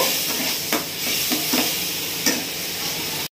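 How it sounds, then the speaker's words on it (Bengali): A spice paste for a Bengali curry, with a splash of water added, sizzles steadily in a pan while a spatula stirs it, giving a continuous close frying hiss punctuated by several distinct scraping strokes. "দিয়ে ভালো করে নেড়ে চেড়ে মশলাটাকে কষিয়ে নেব।"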